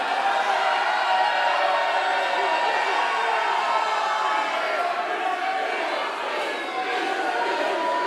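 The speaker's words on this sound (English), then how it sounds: "The crowd getting behind the Beast here." A wrestling crowd at a CCW Summerbrawl event roars and cheers in support of Danny the Beast, a dense, sustained wash of many voices filling the hall at an even level throughout.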